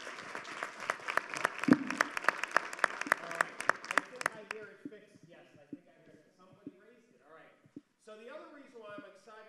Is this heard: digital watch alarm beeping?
no